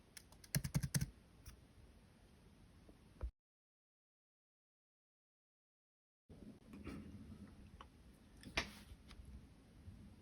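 A MacBook Pro keycap pressed and clicked into place, with a cluster of small sharp clicks, a stretch of silence, then a few more soft taps close by and quiet.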